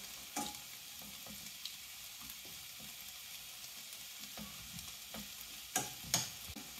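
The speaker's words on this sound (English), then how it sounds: "I'm also going to just give them a gentle mash." Cooked beans gently mashed in a pan for a veggie burrito, with a faint sizzle and soft intermittent thuds and scrapes of the masher, quiet and close.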